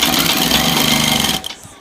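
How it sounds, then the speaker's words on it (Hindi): A sewing machine stitches a pocket on a kurta with a fast, steady, rattling whir, close and loud, then stops abruptly near the end, leaving quiet handling noise. "तो अब हमें यहाँ से सिलाई लगानी है"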